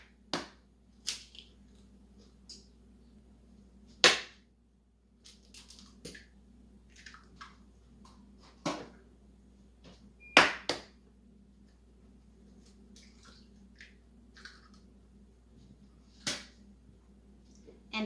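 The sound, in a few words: cracking eggs into a cake pop mixture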